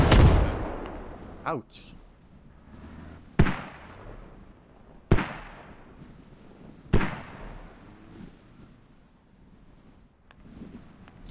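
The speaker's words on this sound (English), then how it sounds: "Look at the rocket strike." Rocket strike explosions in the video game Squad land as four sharp, booming blasts spaced about two seconds apart, each trailing into rumble, with wind noise throughout and a voice speaking briefly.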